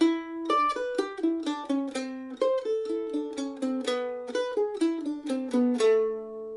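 A solo mandolin plucks the first half of the B part of the choro Não me Toques, a steady stream of bright, quick notes stepping through a descending bass line, close and clear before the last chord rings out.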